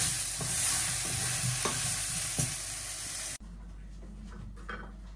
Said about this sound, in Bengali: আলুকে আগে ভেজে নিতেছি।